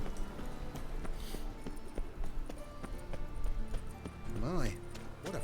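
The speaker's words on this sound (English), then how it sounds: "Horse." Horse hooves clip-clopping in The Witcher 3: a steady rhythmic trot of hoofbeats under game ambience and music, with voices speaking over it.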